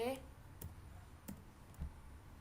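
Keyboard shortcut presses for copy and paste on a computer, three or four sharp isolated clicks spaced about a second apart, quiet and close against low background noise.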